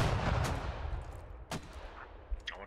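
Mortar rounds firing and landing in the Star Wars Galactic Contention game: a few sharp, distant booming blasts spaced apart, ringing out over a steady low rumble of battlefield noise.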